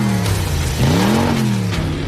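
A car engine revs up and down in a pitch sweep over a steady loud rumble, part of a used-car sale advert. The engine sounds up close and fills the clip.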